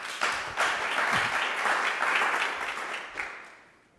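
An audience at a cultural entrepreneurship webinar event welcomes a speaker with warm applause, a few sharp first claps swelling into steady group clapping that tapers off over a few seconds.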